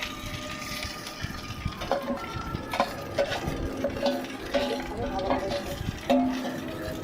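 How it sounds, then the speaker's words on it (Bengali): Fried bitter gourd and potato are stirred in a wok over onion and garlic, with soft repeated scraping and clinks under a low background hiss, fairly close and quiet. "তার উপরে সেই ভাজা উচ্ছে আর আলুটা দিয়ে দেবো।"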